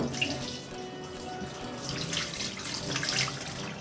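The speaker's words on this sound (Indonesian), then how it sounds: "Nah, sekarang kita bilas dulu, bilas krimnya." Steady running water rinses cream off a cat with a fungal skin infection during grooming, a continuous close splashing flow with no talk.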